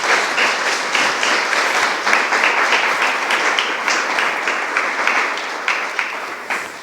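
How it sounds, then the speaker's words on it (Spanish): A church congregation applauds the Lord with loud, dense, sustained clapping from many hands, filling the room evenly throughout with a slight fade at the end. "Denle un fuerte aplauso al Señor."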